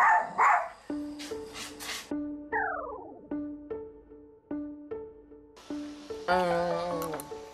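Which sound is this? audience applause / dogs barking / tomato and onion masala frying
dogs barking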